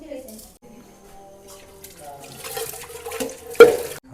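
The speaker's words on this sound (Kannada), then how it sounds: "6 ಲೋಟಕ್ಕೆ ನಾವು ಟೋಟಲ್ ಒಂದು 14 ಲೋಟ ನೀರು ಹಾಕ್ತೀವಿ" Water is poured from a large tumbler into rice in a big pot for a 20-person mushroom biryani, rising to a rushing splash in the second half over a voice speaking nearby.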